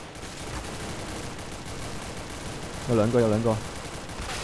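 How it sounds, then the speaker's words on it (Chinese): Gunfire in the Counter-Strike: Global Offensive video game, a short burst of shots under a player's continuous commentary, fairly distant and partly masked by the voice. "有枪声喎"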